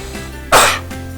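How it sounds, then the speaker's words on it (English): A single forceful cough bursts out loud and close, over a quiet background hum, then fades quickly. "it'll produce a lot stronger, a much stronger glottic pharyngeal spasm, a stronger cough"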